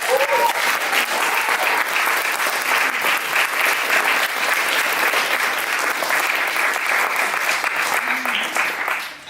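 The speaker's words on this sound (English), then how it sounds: "give them a round of applause" An event audience gives sustained, dense applause for the students who made a magazine, a steady roar of many hands clapping for about nine seconds at full loudness.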